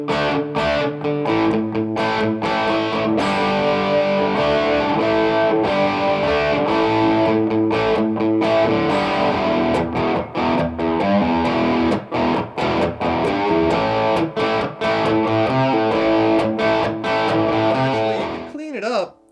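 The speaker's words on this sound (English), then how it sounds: "Check out some sounds on the lead channel, and that's where all the distorted tones you'll find" An electric guitar runs through the lead channel of a PRS Archon 25 combo amp at modest gain, playing a busy distorted riff of chords and single notes that rings out alone and cuts off sharply at the end.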